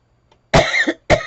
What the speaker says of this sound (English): There I go with that coughing asthma.